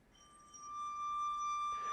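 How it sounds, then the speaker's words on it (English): A single clear glass tone rings out, a pure bright ping that sustains evenly, with a soft click near the end. "if I click it again, we're going to hear the single glass tone"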